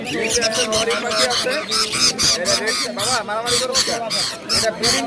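Many caged birds at the Mirpur 1 bird market in Dhaka squawk and chatter loudly and continuously, with dense overlapping calls and a busy crowd in the background.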